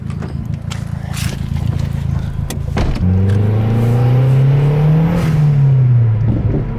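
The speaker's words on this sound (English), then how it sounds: "All right, Benny, let's see how this blow off valve sounds" A GFB blow-off valve on a turbocharged Mazdaspeed3 sounds off over a steady idling engine, followed by a rising, then falling rev tone that fills the last few seconds, close and fairly loud.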